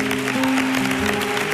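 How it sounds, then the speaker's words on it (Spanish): An audience at a televised talent show final applauds a violinist, a continuous wash of clapping with a sustained tone running underneath. "Permítanme que de nuevo este aplauso sea también para el maestro Samuel Cortés."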